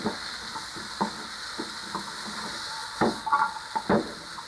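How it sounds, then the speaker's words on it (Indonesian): Carrot pieces, parboiled first, stir-fried in a pan for a crab dish until slightly wilted; a steady sizzle runs under intermittent scraping and clattering stirs, busier toward the end. "kita tumis sampai sedikit layu aja"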